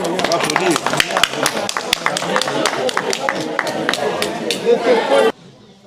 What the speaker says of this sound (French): Applaudissez, On applaudit là.